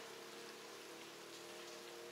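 Steady rain pattering and dripping on an apartment balcony in Vietnam, a soft, even hiss that holds constant throughout with no voices.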